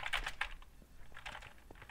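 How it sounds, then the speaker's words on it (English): Rapid keyboard typing in short bursts of clicky keystrokes, close and moderately loud, with brief pauses between flurries while playing a Minecraft minigame, no speech over it. "I'm so good at typing."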